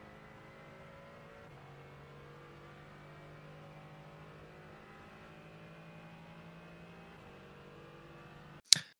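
A Mercedes AMG GT4 engine in the iRacing sim on the Nürburgring Nordschleife drones quietly and steadily with gradual pitch rises and gear-shift dips, ending in a sudden sharp loud burst.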